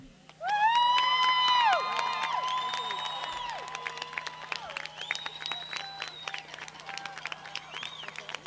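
A large crowd at a high school graduation bursts into loud applause and cheering, sustained throughout, with scattered whistles and shouting voices over steady clapping.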